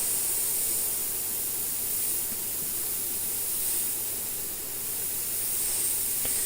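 A roughly 12-year-old air compressor hisses, giving a loud, steady broadband rush of escaping air that swells slightly and persists alone for the whole stretch.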